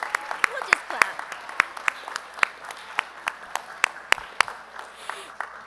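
A small audience at a school board meeting claps in sparse, distinct hand claps that come irregularly over several seconds, close and fairly light, with no crowd roar.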